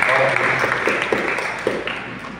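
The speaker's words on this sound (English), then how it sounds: "let's give the Lord a round of applause" A church congregation at an English-language Sunday service applauds, with a continuous clapping wash mixed with a voice talking over it.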